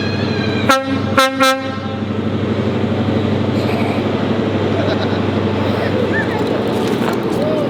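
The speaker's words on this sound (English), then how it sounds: "that is Sir Kenneth Grange, 43002, the last passenger westbound off of HST" A GWR HST passenger train, power car 43002 Sir Kenneth Grange, sounds two loud horn blasts early on, then rumbles past steadily and close for the rest of the run.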